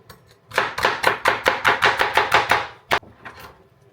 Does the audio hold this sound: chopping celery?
yes